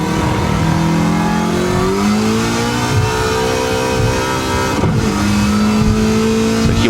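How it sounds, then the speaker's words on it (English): A race car engine in a racing video game revving hard and climbing through the gears on a highway run, loud continuous rising whine with shifts and the pitch resetting, alone with no talk. "Here we go up to fourth gear, already 220 kilometers per hour."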